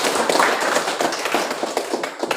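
Classroom applause during a lesson, a steady patter of many hands clapping close by, dense and even for a couple of seconds with no talk over it.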